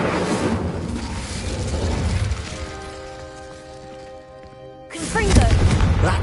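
In Hogwarts Legacy, the Incendio fire spell erupts in a loud whooshing blast, settles into a sustained magical tonal hum, then bursts again with a second heavy rush near the end.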